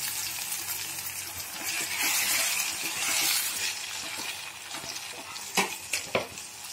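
Grated raw mango and carrot being stirred in a pan for chutney, a steady scraping and soft sizzle throughout with a few sharper clinks of the spoon near the end.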